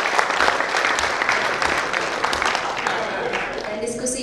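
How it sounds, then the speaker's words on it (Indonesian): Applause from the audience at an Indonesian logistics business seminar following a ministerial keynote, steady clapping with voices faintly mixed in. "Boleh minta tepuk tangan Bapak Ibu sekalian?"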